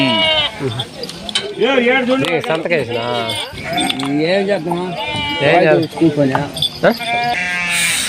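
Sheep bleat repeatedly at the Gudur sheep market, loud and close, with overlapping calls from several animals, while people talk over the flock throughout.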